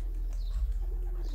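Pigeon cooing outdoors where pigeons and swallows gather and land, a soft low coo repeated faintly over steady background rumble.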